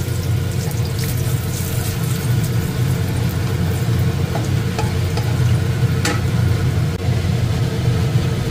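Whole garam masala and bay leaf sizzle in hot oil as a steady, loud frying hiss, with occasional light pops and clinks over the continuous crackle.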